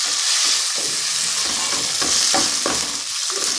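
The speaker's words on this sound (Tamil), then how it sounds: "நல்லா வதக்கலாம்." Steady frying sizzle with a spatula stirring and scraping through tomatoes in a pan while making horse gram rasam, a few soft clatters repeating, close and continuous with no talking.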